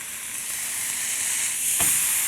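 Peppercorn-crusted beef tenderloin sears on a griddle pan with a loud, steady sizzle and hiss, swelling slightly near the end with a brief scraping stir, no voices.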